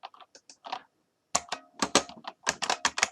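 Bursts of rapid clicking keystrokes on a computer keyboard, close and fairly loud, with a brief pause partway through before a denser run of typing.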